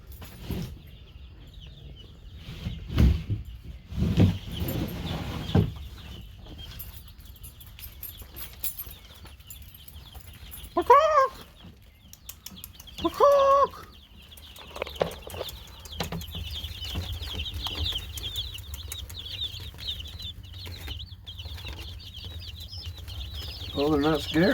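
Chickens in a farmyard with newly arrived baby chicks, occasional clucks and a couple of louder calls over steady background rustle and patter, with some faint human sounds mixed in.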